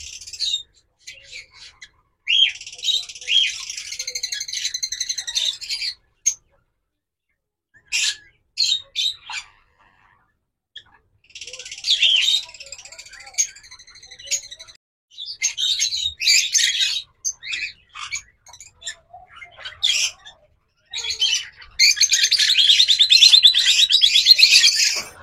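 Caged lovebirds, cockatiels and doves chirp and squawk in a shed, in bright bursts of tweeting separated by short quiet gaps, fairly close and growing busier toward the end.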